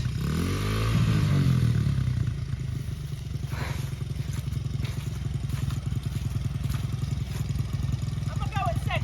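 A Honda CRF100F kids' dirt bike engine revs up and pulls away in first gear, a loud buzzing motor rising in pitch then settling into a steady chugging drone, with people talking over it.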